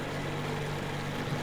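Boat engine running in the video game Metro Exodus, a steady low droning rumble with a constant hum, continuous and fairly quiet with no talk.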